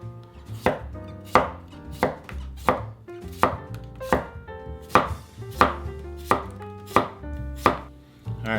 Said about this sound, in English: for the cucumber, we're just going to cut them to 1/4 inch pieces